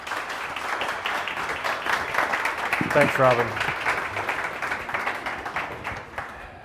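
Audience applause for a keynote speaker, a moderate steady clatter of many hands filling the room at a middling distance, while someone briefly speaks over it midway.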